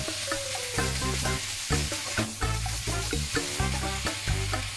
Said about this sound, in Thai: ผัดให้คะน้าสลดนะคะ